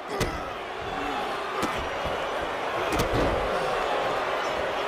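In a pro wrestling match, a wrestler is knocked down and slammed to the mat, giving a few sharp thuds over steady crowd noise, with a commentator talking throughout.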